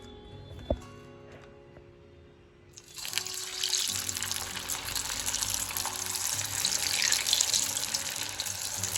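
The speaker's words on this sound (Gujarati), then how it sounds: "ત્યાર પછી હવે આપણે તેને ઓઇલમાં ફ્રાય કરી લઈશું।" Sabudana tikki patties frying in hot oil, a steady loud sizzle and crackle that starts abruptly after a quiet start with a faint knock, then continues densely to the end.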